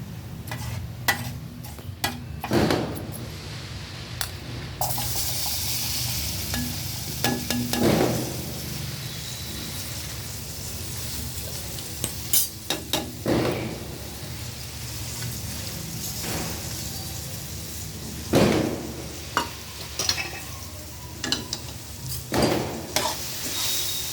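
Okra pieces frying in a pan and being stirred, a steady sizzle with periodic scraping and clinking of the spoon against the pan, close and alone without talk.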